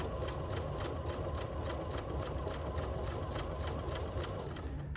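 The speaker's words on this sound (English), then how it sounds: "So what I'm going to do is just put down my foot and sew a sample for you." A BERNINA 335 sewing machine stitches pintucks with twin needles, running at a steady, even pace with a fast rhythmic needle tapping over a continuous motor hum, close and constant throughout with no talking.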